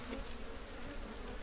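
A steady, dense insect buzz, like bees humming close by, continuous without pauses or voices.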